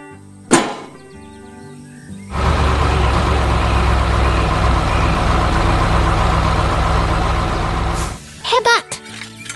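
A yellow construction truck in a 3D animation runs its engine with a loud, steady rumble for several seconds, framed by short clanks and bursts of brighter mechanical noise before and after.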